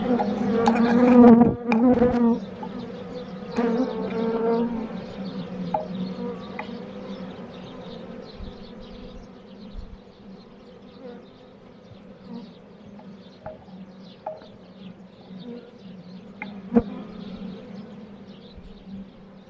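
Honey bees swarm and buzz densely around an open frame lifted from a strong colony's hive, a loud close droning with bursts of louder buzzing early on that settles into a steady hum.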